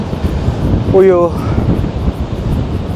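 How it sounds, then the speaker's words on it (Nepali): Strong gusting wind at the mouth of Moore River where it meets the ocean, buffeting the microphone with a loud, steady roar, while a voice speaks briefly over it. "हावा त ओ माई गड यस्तो चलेछ कि नेक्स्ट लेभलको हावा चलिरहेछ है"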